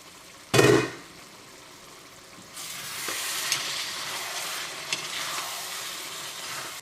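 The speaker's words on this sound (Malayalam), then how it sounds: "ഇടയ്ക്ക് നമ്മൾ കറി ഒന്ന് ഇളക്കി കൊടുക്കാം" Chicken curry with coconut milk for Kozhikode dum biryani bubbles and sizzles in a pot, with a sharp clank near the start and then steady stirring and frying that runs on close and even.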